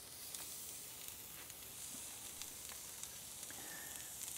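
Burgers searing dry inside a firebox give off a constant, even sizzle and hiss with small crackles scattered through it, quiet and fairly distant.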